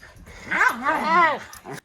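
A pet dog whimpers and yips in a high, wavering, whining voice for under two seconds, close to the microphone, with a short yip at the end.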